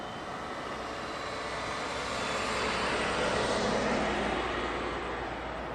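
A fixed-wing airliner takes off from runway 20 at Lisbon Airport, its engines a broad, steady roar that swells gradually toward the middle before easing slightly, heard alone at a distance.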